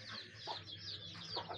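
Chickens in a brooding pen for newly hatched chicks on a poultry farm, clucking and calling close by in short repeated bursts, with no talk over them.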